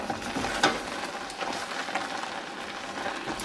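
Cranberry sauce cooking on high heat and tossed with a spoon: a steady soft sizzle and bubbling with light scraping and stirring clicks, fairly faint and with no talk.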